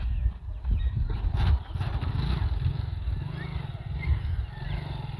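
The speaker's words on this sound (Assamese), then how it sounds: "বাইক ষ্টাৰ্ট হৈ গ'ল" A motorcycle push-started in gear on the road catches and runs, a close low engine rumble that surges at the start and then settles into a steady idle with faint clatter.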